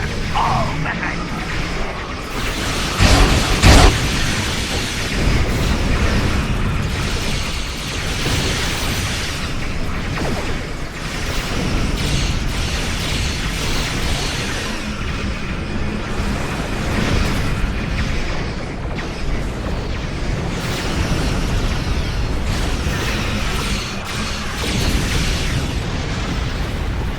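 Sustained weapons fire and explosions in a Star Trek Online space battle: dense, continuous booming and crackling bursts fill the whole stretch, with a sharper loud blast near the start and no clear pauses.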